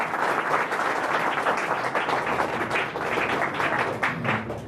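A live audience applauds loudly and steadily for a poet at a Hindi poetry recitation, dense clapping filling the whole stretch without a break.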